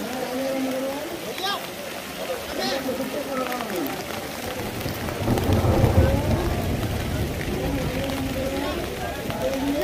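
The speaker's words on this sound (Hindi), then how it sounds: "कैसे ओले गिर रहे हैं ज़ोर से गिर रहे हैं अभी तो" Heavy hail pours down at Kedarnath in the mountains as a dense, continuous roar that swells louder midway, with someone talking over it throughout.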